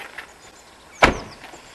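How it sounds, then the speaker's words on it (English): A Volkswagen Scirocco car door slams shut with one sharp, close thud in an otherwise quiet space. "Shut the door."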